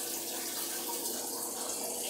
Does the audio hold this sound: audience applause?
no